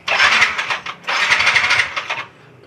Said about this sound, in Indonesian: Wah, PT nyalain motor nggak nyala-nyala.